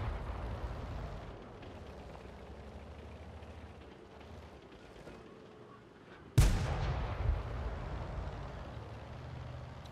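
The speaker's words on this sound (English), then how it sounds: "We want to blind fire the living crap out of this position, okay?" A tank gun fires blind in World of Tanks: one sharp, loud boom cracks out partway through after a quieter rumbling stretch, followed by a lingering low engine drone.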